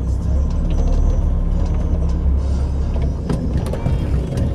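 Heavy truck pulling away in first gear on a quarry site, a loud steady low engine rumble with mechanical clatter throughout, close and continuous with no talk.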